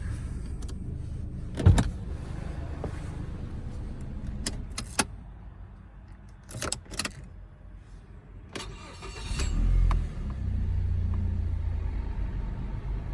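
A 2008 Mazda 3 with 188,000 miles runs with a low, steady engine rumble. Scattered clicks and clunks come from around the car, and a louder surge near the end settles into a continuous hum.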